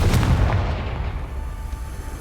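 A Confringo fire spell bursts with a loud, booming blast in the Hogwarts Legacy video game, then a rumbling tail fades over about two seconds.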